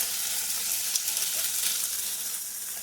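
Refried beans from a can hit a warm pan, and a steady, even hiss of sizzling holds at one level throughout, close and fairly loud.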